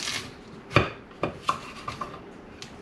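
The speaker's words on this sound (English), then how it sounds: "take your knife and you're going to cut these potatoes and make 4 wedges out of each potato" A sharp knife cuts potatoes into wedges, giving several distinct chopping knocks against a board with quieter scraping between them, close and fairly soft with no talk.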